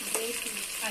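Curry leaves dropped into biryani masala frying in hot oil, a steady close sizzle with a brief crackle as they hit the pan.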